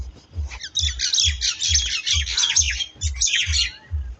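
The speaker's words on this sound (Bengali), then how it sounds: "পাখিগুলো কিচিরমিচির আওয়াজ করছে" Birds chirp overhead in a green tomato garden lined with palm trees, a busy cluster of bright twittering calls over a steady, regular low thumping pulse, fairly close and clear with no talking.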